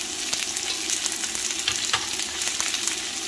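Onion and ginger frying in a pan for red tilapia escabeche: a steady, close, bright sizzle with crackles and a few stirring scrapes, continuous and with no talking.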